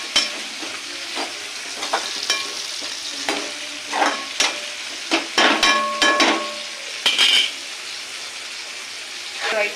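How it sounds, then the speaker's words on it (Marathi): Dried shrimp and onion fry in oil, a constant sizzle under bursts of clattering stirs and utensil knocks against the pan, loud and near with no talk. "टोमॅटो टाकला लगेच ही कर्दी फ्राय करून घ्यायची तेलामध्ये चांगली. कांदा तेलात चांगली फ्राय करून घ्यायची आहे."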